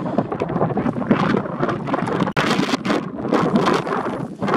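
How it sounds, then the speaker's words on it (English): Strong, gusty wind in Tonopah, Nevada buffets the microphone in loud, uneven bursts of rumbling noise. "it's very windy."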